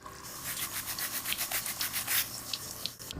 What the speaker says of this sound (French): On va prendre ta petite brosse à dents, ton dentifrice et mouiller et brosser la petite dent.